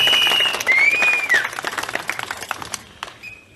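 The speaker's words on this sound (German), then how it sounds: "Ihr Applaus." Audience applause in a hall for a German political speaker, a burst of clapping that thins and fades over a few seconds, with a whistling tone and some voices mixed in.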